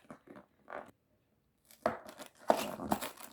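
Lego set 60279 packaging being torn open by hand, with quiet scattered rips and crinkles at first, then louder, closer tearing and rustling bursts.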